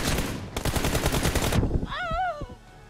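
Rapid automatic gunfire in a Free Fire-style battle royale team deathmatch, a dense burst of shots for about a second before cutting off, followed by a brief electronic whine.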